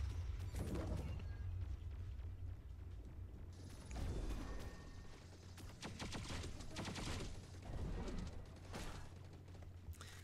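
Gunfire from the video game T3 Arena comes as scattered bursts of rapid shots, fairly quiet and somewhat distant, with bangs and game effects between the volleys.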